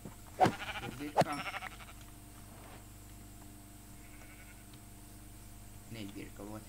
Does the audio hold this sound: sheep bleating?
yes